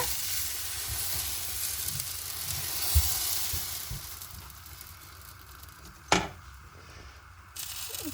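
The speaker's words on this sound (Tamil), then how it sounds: "இப்போ வந்து நான் வந்து தோசையை வந்து ஊற்றி பார்க்க போகிறேன் சட்டி நல்ல சூடாயிட்டுது" Ragi dosa batter on a hot pan gives a soft continuous sizzle, with a few light taps early and one sharp clatter partway through before the frying hiss fades quieter, and no voice.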